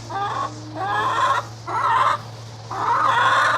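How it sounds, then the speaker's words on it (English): A hen in a yard lets out irritated, harsh squawks in four loud bursts separated by short pauses, close by and alone, with a steady low hum beneath. "she basically roams the yard making irritated squawks"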